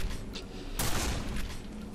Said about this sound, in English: let's go see the fireworks